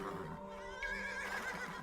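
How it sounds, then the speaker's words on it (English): A horse neighing in the video game Age of Empires 2, a rising, wavering whinny over a droning in-game music and ambience bed, fairly close and clear. "Oh, 2 more horses."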